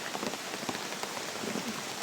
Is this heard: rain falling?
yes